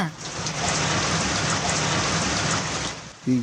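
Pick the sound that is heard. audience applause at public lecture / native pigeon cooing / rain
rain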